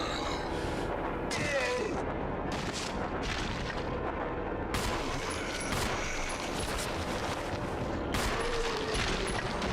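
Gunfire from Chris Redfield's gun in Resident Evil HD, loud booming shots in a dense, continuous mix of blasts and game noise that runs throughout, with a few sharper bursts standing out.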